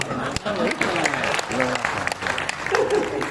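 Applause from a crowd at a Hindi comedy poetry gathering, dense and steady for a few seconds, with voices and laughter mixed in.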